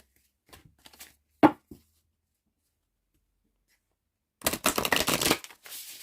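Oracle cards handled and shuffled: a few soft taps and flicks early on, a long quiet pause, then a close, dense riffling burst followed by a couple of lighter flicks.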